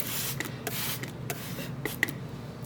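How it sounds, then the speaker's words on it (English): A spray bottle gives several short, hissing spritzes of water onto a watercolor palette in quick succession, close by and fairly quiet, with faint background noise between bursts. "I'm going to spray down this palette with this spray bottle"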